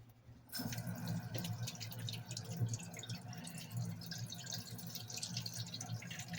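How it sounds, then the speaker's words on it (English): Tap water runs steadily into a cooking pot with meat for soup, a continuous close splashing and trickling flow that starts abruptly and carries on without talk. "gonna go ahead and get some water in here"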